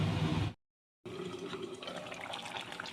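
Water pours into a pan of browned potatoes and long beans, a hissing, bubbling splash that cuts out briefly and then resumes as a steady rushing pour.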